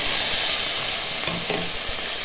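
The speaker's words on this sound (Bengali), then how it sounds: "দেখো তেলে এখন পেঁয়াজ কুচি আর টমেটো কুচি ভেজে দিলাম।" Chopped onion and tomato fry in hot oil with a constant loud sizzling hiss, and a few soft scrapes and knocks of stirring sound close by.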